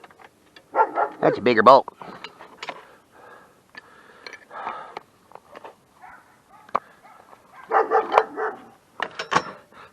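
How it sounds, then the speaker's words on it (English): Dogs play and bark indoors while someone works on mounts and headlights; a few sharp bark bursts, loudest near the start and again toward the end, break through steady nearby talking. "dogs are being goofy, but they're allowed. They're dogs. We like our dogs."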